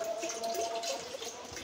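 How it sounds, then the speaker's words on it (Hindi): About a liter of water runs from a tap into a cooking pot in a kitchen, a steady, close splashing gush with a faint rising tone as the pot fills. "इसमें मैंने तकरीबन 1 लीटर पानी डाल दिया है"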